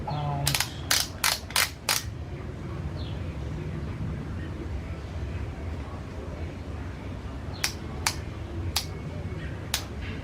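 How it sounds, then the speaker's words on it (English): A torque wrench is dialed to 35 foot-pounds during a stator change on a 2005 Victory Hammer motorcycle, giving sharp ratcheting clicks in a quick burst, a pause, then several spaced clicks over low room noise. "I'm going to set my torque wrench to 35 foot-pounds."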